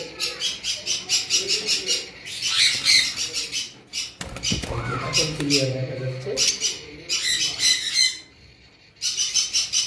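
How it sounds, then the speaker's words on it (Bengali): Lovebirds in a cage flap and flutter hard, with bursts of wingbeats and sharp chirps and squawks close by, while someone talks over them partway through. "পাখিটা হিউজ পরিমাণ উড়াউড়ি করতেছে"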